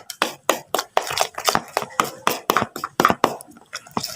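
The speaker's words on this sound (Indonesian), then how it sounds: "Kita aduk-aduk lagi." A fish bait mixture being stirred after Denko condensed milk is added, giving repeated rhythmic scraping and thudding strokes, close and fairly loud, about two per second with no talking over them.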